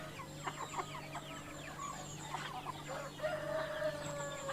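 A large village rooster crows in a loud, drawn-out call, and the clucking of other farmyard chickens sounds close by.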